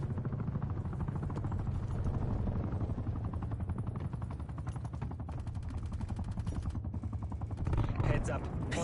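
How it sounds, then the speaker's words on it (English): A hostile gunship helicopter overhead in Call of Duty Cold War, a dense rapid thrumming mixed with bursts of gunfire, loud and continuous, with game voice callouts over it. "Hostile gunship above."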